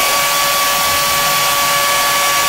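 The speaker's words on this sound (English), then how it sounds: "Now I'm going to take my hair dryer." A hair dryer blows steadily on a wine bottle, a loud, constant whooshing hiss with a thin whine running through it and no talking.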